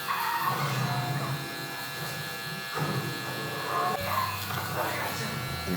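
A Babyliss Gold SnapFX hair clipper with its lever open buzzes steadily while cutting hair during a taper, running close and continuous under someone talking.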